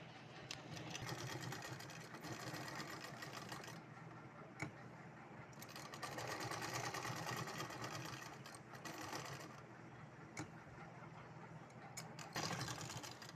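Sewing machine stitching a salwar, running in steady sustained bursts with brief pauses between, close and fairly loud, with no talking.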